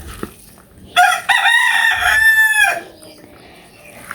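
A backyard rooster in a Bangladeshi village crows once loudly and close for nearly two seconds, with soft clucks before and after.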